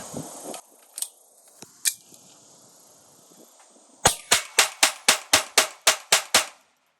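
A Sig P322 .22 LR pistol fires Federal Target Grade Performance bulk ammunition: a few light clicks and knocks, then about ten sharp, loud shots in a rapid, even string.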